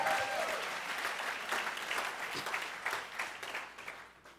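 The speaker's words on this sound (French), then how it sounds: "est-ce qu'on peut donner une bonne main d'acclamation à notre Seigneur?" Church congregation applauding together during a service, a steady wash of many hands clapping at moderate distance, fairly soft and continuous with no speech over it.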